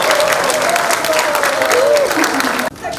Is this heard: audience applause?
yes